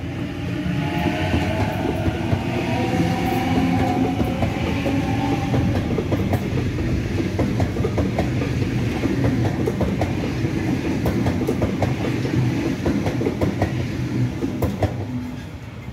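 A driverless tram rolls past on the tracks, producing a loud continuous rumble with rhythmic clickety-clack over the rail joints and a faint squeal early on, lasting the whole stretch without speech.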